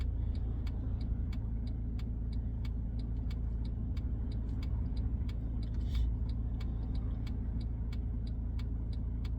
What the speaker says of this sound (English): Busy junction, cars coming towards me